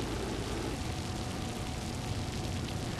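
Steady rain falls on a night street in a noir story, a dense, continuous hiss that holds loud and even throughout with no voices.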